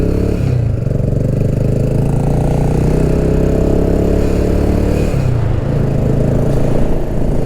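A small BSA motorcycle riding among big adventure bikes on Algarve roads, a loud steady engine drone with shifting pitch during gear changes, heard close from the rider's position with wind noise.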